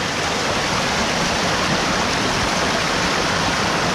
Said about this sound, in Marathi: इथे पाण्यावरती चालतोय